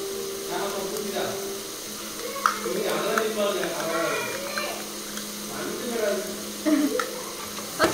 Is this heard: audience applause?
no